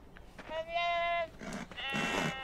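Sheep bleating in the video game Beyond Two Souls: a couple of wavering, nasal bleats close by, the first long and tonal, followed by shorter rougher calls.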